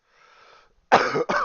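Two harsh, loud coughs close up, the second shorter, following a softer breathy rasp.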